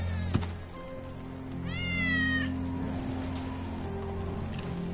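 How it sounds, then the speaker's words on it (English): A cat in a PS4 video game lets out a single clear, wavering meow near the middle, heard over a steady game soundtrack hum with a faint click at the start. "It's Wedge's cat."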